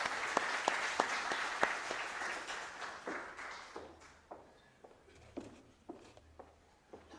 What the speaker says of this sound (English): Can you give her a clap?